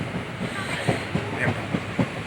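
The Ernad Express runs along the rails with a steady rhythmic clickety-clack of wheels over joints under a constant loud rumble, heard from inside the moving train.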